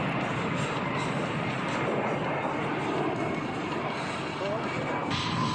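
A-10 jet pulling up into the vertical during an airshow display, a steady broad jet roar that keeps a constant level under a person talking.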